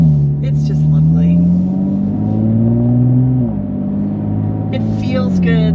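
A loud, steady 2023 Nissan Z engine drone hums throughout in sport mode with a slight rise and dip in pitch as the car cruises along; a voice speaks briefly over it.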